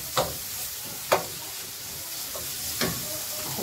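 Onion sliced with a potato peeler frying in a pan, a steady sizzle and hiss running throughout with a few sharp clinks of stirring, moderately loud and close, with no talking.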